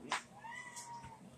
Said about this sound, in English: There's my fat cat. Look at my fat cat.